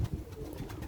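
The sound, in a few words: Basrawi pigeon cooing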